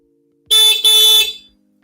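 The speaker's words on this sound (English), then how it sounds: "Sounds like a car horn." A car horn honks twice in quick succession, loud and close, followed by a brief faint click.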